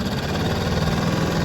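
A small Hangkai 6.5 hp outboard boat motor idles steadily on a river, a low, even, throbbing hum close by with no voices.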